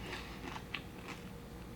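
Crispy, crunchy refried pork belly being chewed up close, a few sharp crunchy bites over a quiet background with no talking.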